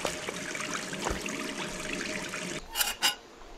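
Water runs steadily from a tap as hands are washed in the video game Gone Home, a soft continuous trickle that stops abruptly, followed by two brief louder splashes or clunks near the end.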